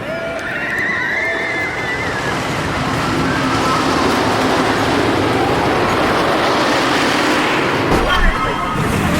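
The Predator roller coaster at Six Flags Darien Lake roars along its track in a loud, sustained rushing rumble that swells and fades, with riders' voices over it.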